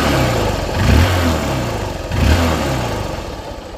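A second-hand Hero Hunk 150cc motorcycle with double disc brakes revs up twice from a running idle, each throttle blip swelling loud and close before settling back to a steady mid-pitched engine drone.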